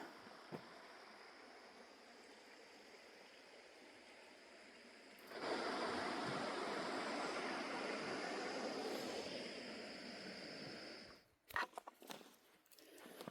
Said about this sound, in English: We've been walking alongside Cooper Brook. A little bit more of the brook.